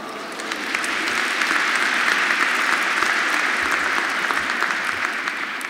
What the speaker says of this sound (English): I knew that would get me, at least that would get me a round of applause.